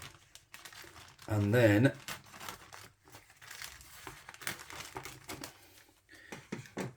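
A plastic bag of frozen chips being cut open, giving one short, loud burst of crinkling plastic between stretches of a person talking nearby.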